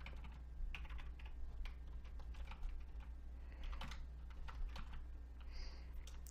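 A password is typed on a computer keyboard during a Linux command-line session, a quiet, fairly steady patter of keystrokes with a low background hum.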